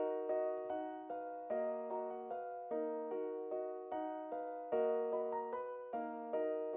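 Piano melody programmed in FL Studio for a dark choir beat, steady repeated chords and notes in an even rhythm, clean and upfront with no voices over it.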